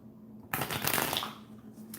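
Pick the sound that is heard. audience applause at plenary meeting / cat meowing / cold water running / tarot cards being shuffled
tarot cards being shuffled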